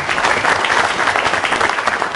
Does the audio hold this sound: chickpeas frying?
no